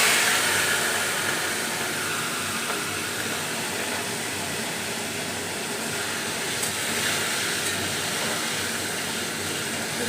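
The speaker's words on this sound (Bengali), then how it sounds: "এবার এঁচোড় চিংড়িগুলো কড়াইতে দিয়ে দেবো।" Shrimp with young jackfruit frying in hot oil in a wok, a continuous broad sizzling hiss that holds steady and fairly loud throughout, with no voices.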